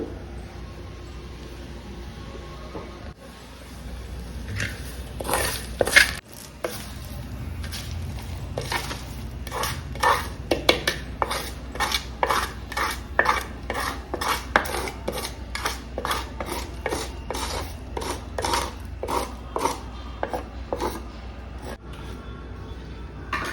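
Garlic and ridge gourd peels pounded in a stone mortar, with a long run of steady, rhythmic knocks and grinding strikes at close range.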